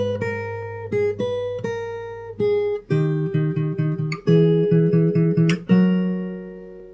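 Fingerstyle acoustic guitar plays a passage from a song: clear, close plucked notes and ringing open strings in a steady, melodic rhythm, moving to a lower, busier section with repeated picked notes, heard alone without talking.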